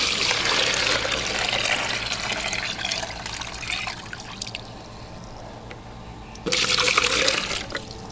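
Water gushes steadily from a tap into a container for filling a Kratky hydroponic lettuce setup, the flow easing midway and then surging again, a continuous close splashing rush.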